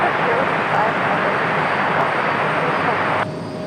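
An aircraft takes off from runway 5 right at Raleigh-Durham International, a steady, loud broadband engine roar held throughout, easing slightly near the end.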